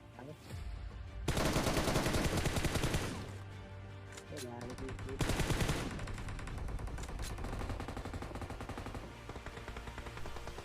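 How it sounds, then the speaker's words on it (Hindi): Bursts of automatic gunfire in the mobile battle royale game Battlegrounds Mobile India, loud rapid volleys in two long stretches, with quieter scattered shots and game sounds between them. "सुन ही रहे हो कितने गन साउंड्स आ रहे हैं"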